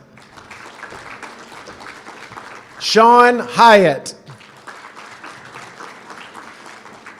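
Steady applause from an audience at a student awards night, a dense clapping wash running throughout, with a loud announcer voice breaking in near the middle.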